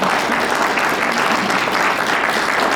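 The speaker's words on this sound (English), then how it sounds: "Clap first? Oh, yeah, sure, clap." Brief, dense round of audience clapping at a talk on art and AI, steady and fairly loud for nearly three seconds without speech over it.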